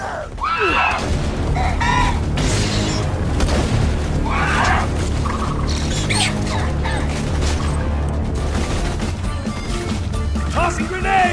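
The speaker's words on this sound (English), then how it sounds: "Tossing grenade!" Grenade explosions in the Borderlands 2 video game thump and crash repeatedly amid dense combat noise, with voices and chatter running underneath.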